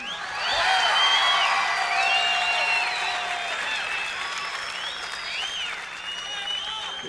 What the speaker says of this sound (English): Would you give a really warm round of applause to Mr.